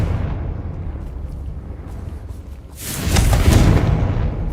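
A Confringo fire spell from the game Hogwarts Legacy bursts into a loud, broad explosion after a quieter stretch of ambient rumble, then roars on for over a second with no voices.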